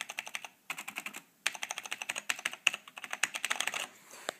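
Rapid bursts of typing on a Compaq MX 11800 mechanical keyboard with Cherry MX Brown switches and a Cherry MX Clear spacebar, close and crisp, with brief pauses between runs of keystrokes.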